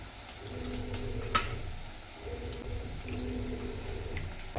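Blood poriyal, Madurai-style stir-fried blood, sautés steadily in a pan, with a continuous soft sizzle and occasional stirring scrapes close by, with no talking.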